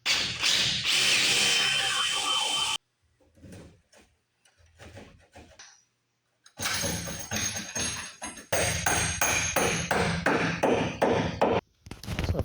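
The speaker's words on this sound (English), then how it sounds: "so we'll drill it out to 1/2 inch." Power drill boring a half-inch hole through a plywood skiff for a bow eye, loud sustained whining bursts with a quiet gap between runs, close up and without talk.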